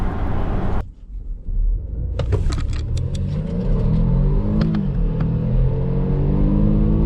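A Volvo XC60 T8 hybrid mid-size SUV accelerates hard, its engine note rising in a loud, steady in-cabin rumble with a few clicks over the droning sweep.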